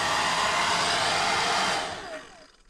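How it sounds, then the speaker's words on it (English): A hair dryer blows hot air onto caravan window trim, a steady close whooshing hiss that runs evenly for a couple of seconds before it switches off and winds down. "we can get the hairdryer and just get a little bit of heat on this"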